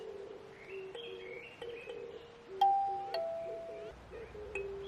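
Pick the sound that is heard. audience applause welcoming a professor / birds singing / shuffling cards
birds singing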